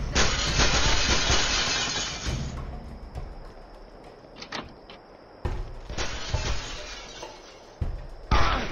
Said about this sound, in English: Shoot the glass out!